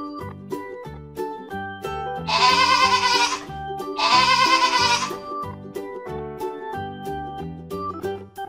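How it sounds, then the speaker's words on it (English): A goat bleats in two long, loud, wavering calls, one after the other, over steady background music. "Goat."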